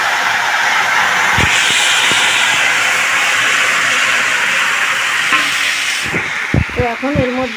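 Fish curry broth with mixed vegetables poured into a hot pan, setting off a loud, steady hiss of sizzling that runs nearly the whole time, with a few clanks and a voice near the end.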